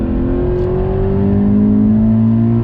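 A 2019 Subaru BRZ Series Gray sports car engine is heard loud and steady from inside the car, its pitch climbing smoothly through a gear under throttle.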